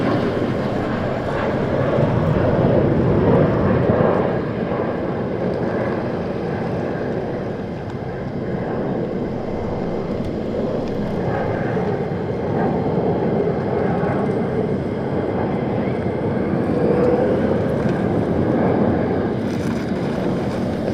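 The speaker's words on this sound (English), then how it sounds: "And then F-35 straight over the top." F-35 fighter jet passing overhead at RAF Lakenheath, a steady broad roar that holds loud through the whole stretch with wind buffeting the microphone and no voices.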